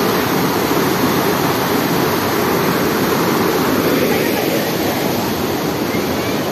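A raging, foamy river rushes toward Düden waterfall in Antalya, producing a loud, continuous roar of churning water that fills the whole moment without pause.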